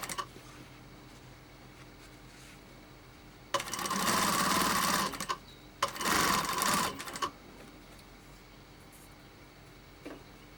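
A sewing machine backstitching a fabric mask runs in two loud, steady whirring bursts of a couple of seconds each, separated by a brief pause, over a quiet room background with no talk.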